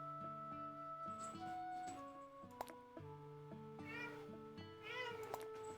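Cartoonish meows from the cats in a cat-care game, several high mewing calls laid over a steady looping melody with ticking, all faint and with no talk over them.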